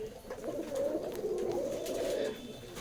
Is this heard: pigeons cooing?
yes